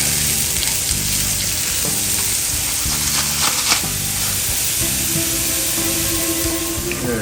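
Onions sauté in a hot pan for a shrimp flambé dish, making a loud, steady sizzle and hiss. Occasional stirring scrapes rise in the middle, and a faint tonal hum sits underneath.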